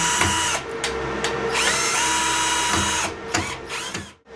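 A power drill drives screws outdoors on an off-grid homestead in Portugal, with several whirring bursts that rise and fall in pitch, close and loud, with brief pauses between runs.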